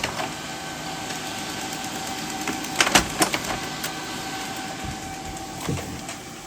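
A printer runs off barcode labels with a steady mechanical whir, broken by a few sharp clicks and clunks near the middle and end, close and moderately loud with no talking.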